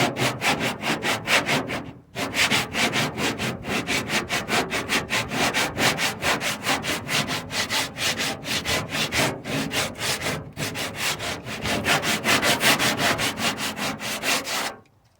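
Bondo body filler being hand sanded in a crisscross X pattern, a fast rhythmic rasping scrub of strokes continuing steadily, close and loud, with two brief pauses.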